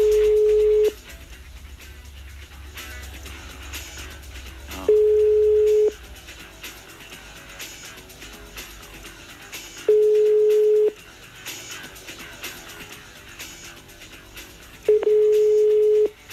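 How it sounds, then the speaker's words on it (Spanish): A telephone line rings out on an outgoing call, four long steady tones about a second each repeating every five seconds, loud and clear against a quiet line. "sonando el teléfono."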